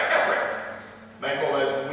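A beatboxer imitates a DJ turntable scratch with the mouth, a raspy back-and-forth noise in two bursts split by a brief dip, close and fairly loud.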